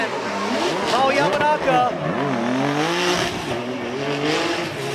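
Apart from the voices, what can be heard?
Formula Drift Japan drift cars with exhaust popping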